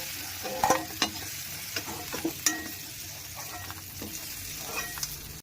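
Small prawns sizzle in a hot pan for a prawn and yam curry, with a constant crackling fry under several sharp utensil knocks and stirring scrapes, no voices.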